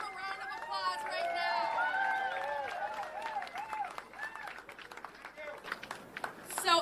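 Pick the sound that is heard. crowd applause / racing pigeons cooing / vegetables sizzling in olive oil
crowd applause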